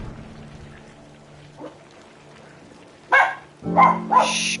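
A dog barks twice loudly and close by, short sharp yaps near the end after a quiet stretch of faint room noise.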